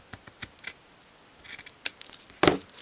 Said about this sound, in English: you just want to cut a little bit of fabric to fit on the inside